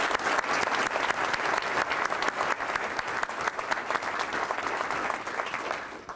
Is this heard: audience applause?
yes